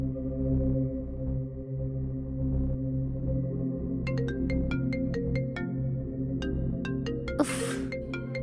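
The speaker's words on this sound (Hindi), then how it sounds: "अब ये रीक मुझे क्यों फोन कर रहा है?" A phone ringtone plays a repeating electronic melody of sharp tones over a steady low hum, followed by a brief burst of noise near the end.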